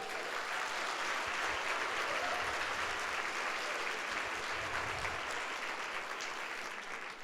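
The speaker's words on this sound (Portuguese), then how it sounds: "Vamos dar um aplauso a Jesus?" A Sunday worship congregation claps together, a sustained and even patter of many hands heard from a distance and fairly soft, continuing for several seconds with no speech on top.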